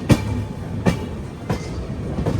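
Passenger train wheels clicking over rail joints as the train picks up speed, a few evenly spaced clacks heard from on board over a steady rumble.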